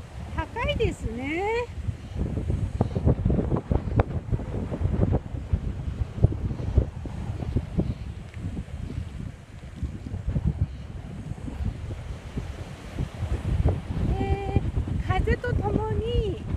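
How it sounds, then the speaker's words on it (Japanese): Strong sea wind buffets the microphone on the Yagaji coast of Yanbaru, Okinawa, with high waves surging and crashing in a continuous roar; a person speaks briefly at the start and again near the end. "私の言葉よりあの海風の方が強いと思います。"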